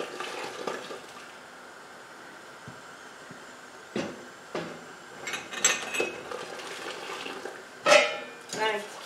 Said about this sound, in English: I'm gonna keep periodically stirring this because you don't want anything to stick on the bottom